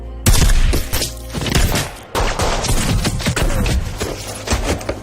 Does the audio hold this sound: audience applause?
no